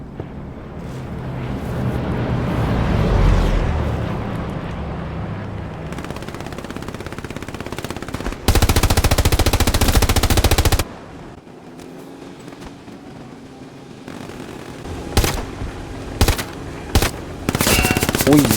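Rapid video-game gunfire bursts in a chaotic war game, a long dense machine-gun stretch followed by sharp scattered single shots, loud and close, with faint voices in the mix.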